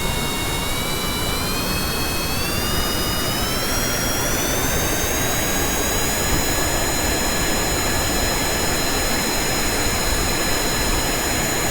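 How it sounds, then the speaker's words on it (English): Aircraft jet engines roar steadily and loudly throughout, with a whining high-pitched tone that gradually rises as the engines spool up after start. "given us clearance to start the engines"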